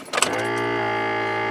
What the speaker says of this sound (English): That sound you hear is an aftermarket vacuum pump.